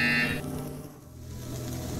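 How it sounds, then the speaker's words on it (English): A single electronic buzzer from the Portal Stories VR game sounds loudly at the start for about a quarter second, then gives way to a low, steady hum of game ambience. "You will hear a buzzer."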